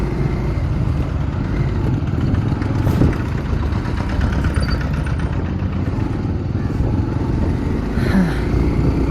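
Motorcycle exhaust rumbling loudly and steadily up close, with the dB killer still fitted, holding a constant heavy drone throughout.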